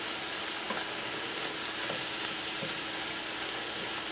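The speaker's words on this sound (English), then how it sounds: "Onions are getting translucent, and boy, do they smell." Onions sizzle steadily in a pot for a chicken bog recipe, a continuous close frying hiss with faint crackles throughout and no voices.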